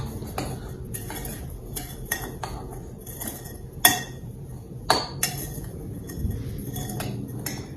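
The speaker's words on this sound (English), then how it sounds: "I'm just going to mix the breadcrumbs and the butter together." A utensil mixes breadcrumbs and melted butter in a bowl with repeated clinks and scrapes against the side. The strokes are close and irregular, and a couple of sharper knocks stand out. No one talks.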